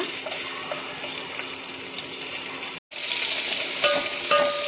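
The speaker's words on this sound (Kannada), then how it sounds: "ಇವಾಗ ಎಣ್ಣೆ ಬಿಸಿ ಆಯಿತು. ಅದಕ್ಕೆ ಜಜ್ಜಿಟ್ಕೊಂಡಿರುವಂಥ ಬೆಳ್ಳುಳ್ಳಿನ ಹಾಕೊಳ್ಳೋಣ." Crushed garlic hits hot oil for an Uttar Karnataka style khar byali, giving a steady bright sizzle that cuts out for a moment, then returns a little louder with crackling pops.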